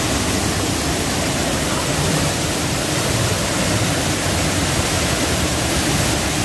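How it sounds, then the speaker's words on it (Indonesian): Broad, steady rush of a waterfall at Pagaralam, loud and close, with no talking over it. "Ini suasananya di curug guys."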